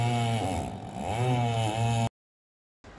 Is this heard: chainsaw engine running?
yes